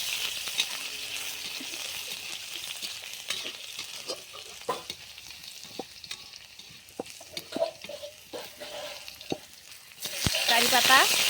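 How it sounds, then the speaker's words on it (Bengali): Crushed garlic frying in hot oil already tempered with dried red chilli and five-spice, with near, irregular stirring clatters and a steady soft sizzle, the frying flaring louder at the end. "রসুন থেতো দিয়ে দিলাম।"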